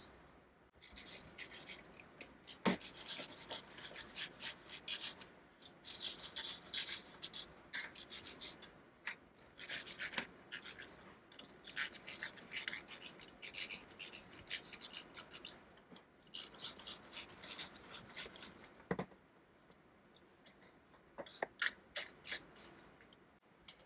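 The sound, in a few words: tightening clamps on Polaris RZR light bar mount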